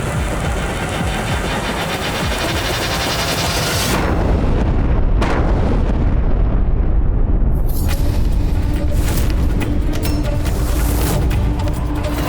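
Cannon fire rages in a battle with Mughal artillery in a Maharana Pratap historical TV series: a dense, loud, continuous roar of blasts and rumble, with sharper booms breaking through around the middle.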